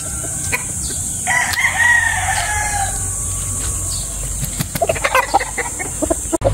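A bulik gamecock rooster crows loudly and clearly once, followed by scattered clucks from nearby fowl over steady farmyard background noise.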